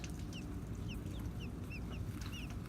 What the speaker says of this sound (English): Those are baby birds.